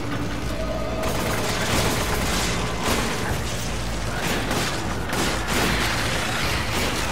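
Rapid bursts of gunfire in the video game Resident Evil 5 crackle and pop amid booming explosions in a dense, continuous barrage with no talking.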